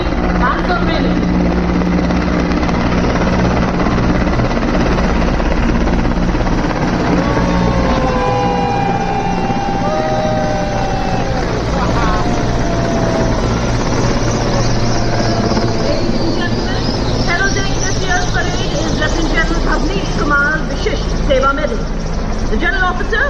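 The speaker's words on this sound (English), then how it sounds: "Force helicopters flying the Dwaj formation, which also heralds the beginning of today's parade." Indian Air Force Mi-17 helicopters fly in formation over a Republic Day parade in Delhi, a loud steady rotor and engine roar lasting throughout, with crowd noise and a commentator's voice mixed in beneath it.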